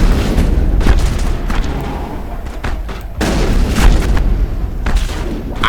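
Grenade blasts and gunfire in the Mass Effect video game, a dense run of loud booming bursts with sharp transients, including a heavy blast near the three-second mark, over a constant rumbling battle din with some faint speech.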